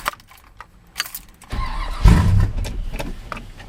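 A cold K10 engine cranks with the choke pulled, as keys jingle and click briefly before a loud chugging starter turn kicks in and churns unevenly for a couple of seconds up close.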